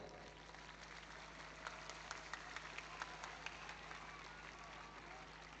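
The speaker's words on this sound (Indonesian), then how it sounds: "Tepuk tangan untuk beliau." Quiet applause comes from the audience at a Hari Santri 2025 ceremony in Lumajang. A soft crowd patter is punctuated by a few sharper, closer claps through the middle.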